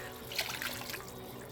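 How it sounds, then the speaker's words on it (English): Chicken stock, the water the chicken was boiled in, pours into a pot pie filling with a steady, close liquid splash that rises briefly and then settles into a continuous flow. "Now I'm adding some of the chicken stock, the water of where I boiled the chicken."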